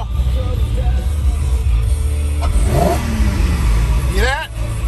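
A Porsche GT4 engine rumbles and revs loudly nearby, a deep continuous roar with rising pitch sweeps, with voices faintly in the background.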